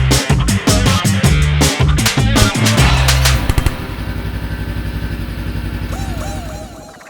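A Honda motorcycle engine runs with a chunky, pulsing rhythm that settles into a steadier idle, loud and close, with faint voices in the background.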